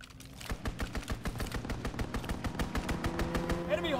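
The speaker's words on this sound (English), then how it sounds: "Strafing run." Rapid bursts of strafing-run gunfire from a video game, a dense rhythmic volley of shots repeating steadily and loud throughout, with a faint electronic tone near the end.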